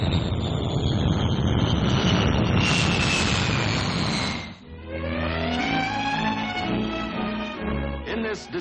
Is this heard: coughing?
no